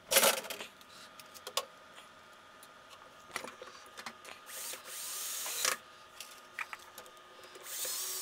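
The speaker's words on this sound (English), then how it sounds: "I'm a bit lazy, so I'm gonna use some power tools." Power tool driving screws while a homelab server rack is assembled: several short whirring bursts with clicks and metallic clatter between them, close and fairly quiet, with brief pauses.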